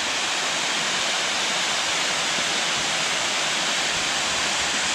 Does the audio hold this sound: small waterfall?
yes